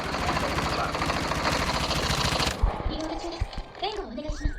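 Rapid automatic gunfire rattles densely for over two seconds in Call of Duty Mobile, then stops abruptly, leaving a few scattered clicks and a voice talking.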